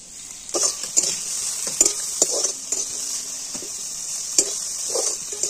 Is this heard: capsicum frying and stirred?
yes